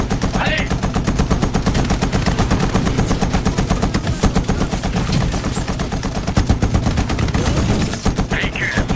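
Rapid, sustained automatic gunfire from the Medal of Honor video game hammers on without a break, loud and close, with voices calling out faintly beneath the shooting.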